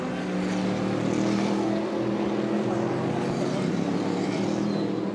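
A pack of GT race cars rolling up side by side in formation at the Nürburgring 24 Hours, a broad steady engine drone with a low rumble, close and continuous, no talk over it.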